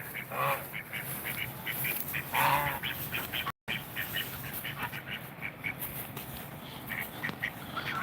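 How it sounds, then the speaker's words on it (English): A mallard duck quacks repeatedly at close range, with a few louder bursts of rasping calls standing out from quieter chatter against a faint outdoor background, with no talking. "This Madler duck, Speedy, has really been getting attached to"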